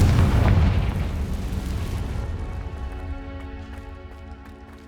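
Bombarda spell explosions in the Hogwarts Legacy video game, a loud booming blast at the start that rumbles and slowly decays, with faint game sounds lingering as it fades.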